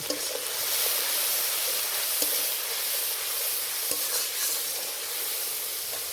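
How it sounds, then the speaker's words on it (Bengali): Cumin and chili powder sizzle in oil for a potato curry, a continuous hissing fry close to the mic with a few light spatula taps, no talk. "দিয়ে দেবো জিরের গুঁড়ো লঙ্কার গুঁড়ো এবার ভালো করে কষে নেব"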